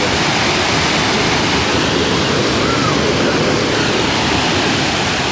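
A mini waterfall below the overflowing Thurkapally ponds roars in a steady, loud, unbroken rush of water, close and constant throughout with no pauses.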